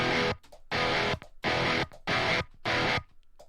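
Five bursts of heavily distorted electric guitar chords through a TSC 808 overdrive, each held briefly then cut off, loud and saturated.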